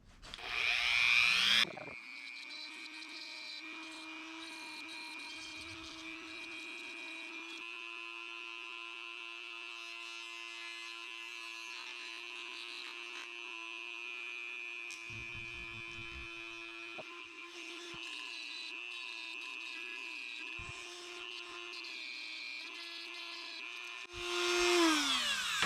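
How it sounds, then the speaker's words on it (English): A Dremel rotary tool grinds a little material off metal with a steady, sustained high-pitched whine that holds for about twenty seconds. It starts and stops with louder bursts and is close and alone. "So I just took my Dremel tool and just kind of relieved a little bit of material right there"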